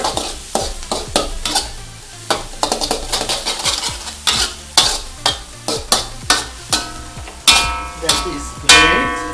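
An egg sizzles and crackles in a hot pan while a utensil scrapes and stirs it in quick repeated strokes, with louder clacks against the pan.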